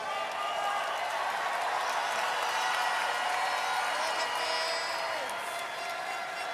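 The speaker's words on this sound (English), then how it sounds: "can we give a big round of applause to all the delegates for being a force for good?" Crowd applause for the delegates at the Miss Universe 2023 preliminary gown event in a large arena, a dense, steady roar of clapping and cheering mixed with background noise across the whole stretch.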